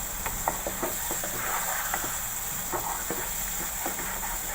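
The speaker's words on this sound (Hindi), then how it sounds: "मसाला हमारा अच्छी तरह से भून गया।" Masala spices sizzle and fry in a pan for a Pakistani pakora curry, a steady close crackling hiss broken by small pops and occasional stirring scrapes, with no talking.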